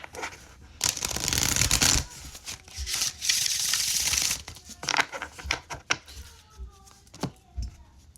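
Oracle cards being shuffled in quick riffling bursts, crisp and close, with short pauses between rounds and a few soft handling noises.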